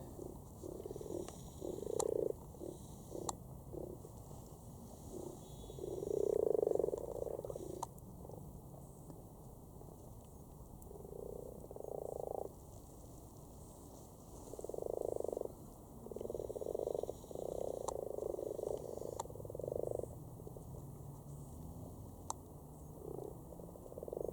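A cluster of mating frogs in a Cambridge pond croaks in repeated bursts and purring trills, some near and loud, others fainter, over a quiet evening background.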